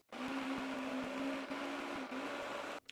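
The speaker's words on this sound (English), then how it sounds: "Put our lid on. And we want to puree this." A countertop blender purees lemon juice and sugar for Italian ice, a loud steady motor whine with a fixed hum running for a few seconds before cutting off abruptly.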